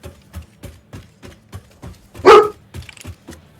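A pet dog barks once at close range, a single loud burst between soft rhythmic background tapping and clicks.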